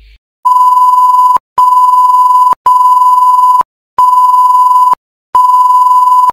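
A phone ringing with an electronic beeping ringtone, five steady loud tones of about a second each separated by short gaps, with no talking.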